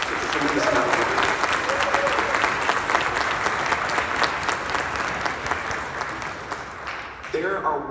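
An audience at a high school wind ensemble concert gives loud, sustained applause for the middle school band directors, with voices rising over the clapping near the start and end.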